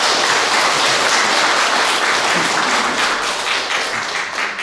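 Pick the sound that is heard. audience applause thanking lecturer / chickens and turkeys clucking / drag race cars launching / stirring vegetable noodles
audience applause thanking lecturer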